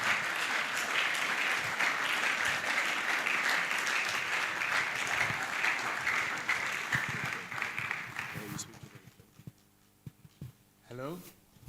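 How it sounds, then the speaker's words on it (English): An audience at a Rethink Africa 2025 conference gives sustained applause for about eight seconds. It then thins out into scattered claps and a short voice near the microphone. "This is how you clap."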